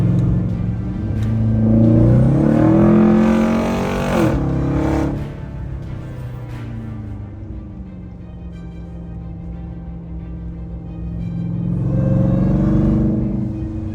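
A Ram TRX truck fitted with a Bwoody intake swells through a loud rev with a rising supercharger whine, drops to a low idle grumble, then climbs into another strong rev near the end.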